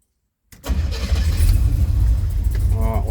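A car engine fitted with a Holley/Quickfuel carburetor cranks and catches after a moment of silence, then settles into a loud, steady rumbling idle close by.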